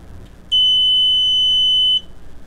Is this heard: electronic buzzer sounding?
yes